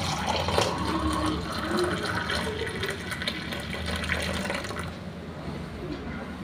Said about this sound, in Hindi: इसको हम कप में निकाल लेते हैं।